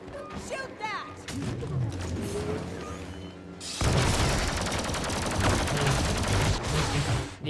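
Blaster fire in the Star Wars Battlefront 2 video game, a dense, loud barrage of energy shots that breaks out abruptly partway through and keeps going, after a stretch with a voice speaking over quieter game sound.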